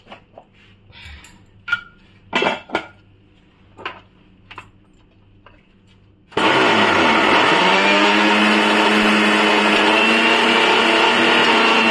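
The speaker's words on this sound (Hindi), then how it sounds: "तो उसको हम मिक्सी में डालेंगे और हम अच्छे से पाउडर बना लेंगे उसका।" Kitchen mixer grinder grinding roasted cumin into powder, switching on after a few seconds of small clatter and then running as a loud, steady whine to the end.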